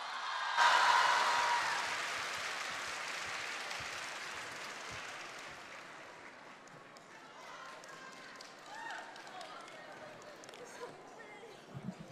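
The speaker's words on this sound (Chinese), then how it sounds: "谢谢各位热情洋溢的掌声" Crosstalk show audience bursting into applause, a loud dense clapping that starts abruptly and then slowly thins and fades, with scattered claps and faint voices near the end.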